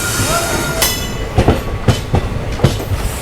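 Passenger train pulling out of Mayiladuthurai Junction, wheels clicking over rail joints in an uneven series of sharp clacks over a steady rolling rumble, heard from on board.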